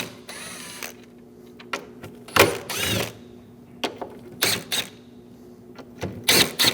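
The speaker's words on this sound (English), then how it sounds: "Using an 8mm socket, remove the 4 bolts for the throttle body." An 8mm socket on a ratchet backs out the throttle body bolts of a 2011-2018 Ram 1500 5.7L V8, with short bursts of fast ratcheting clicks separated by pauses and close metallic handling.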